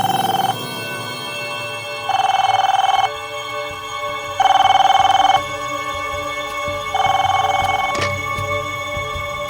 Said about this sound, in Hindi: उस रात जब तुम सो रहे थे तो वहां पे एक फोन आया था।